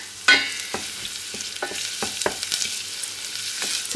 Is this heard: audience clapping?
no